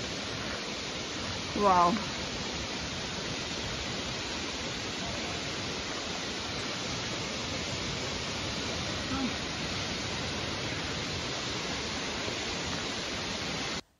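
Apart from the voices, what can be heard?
waterfall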